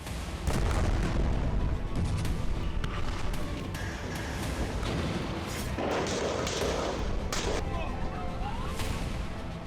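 Artillery shelling and explosions pound Khan Younis in a dense, continuous barrage of booms and cracks, with whooshing bursts and scattered sharper blasts layered through the rumble.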